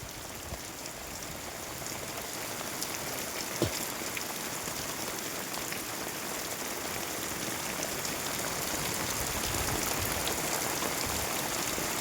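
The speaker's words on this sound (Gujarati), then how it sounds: "આ ત્રીજી વાર વરસાદ પડ્યો આવો" Heavy monsoon rain pours down steadily in a continuous, dense hiss that holds at an even level throughout, with no voices.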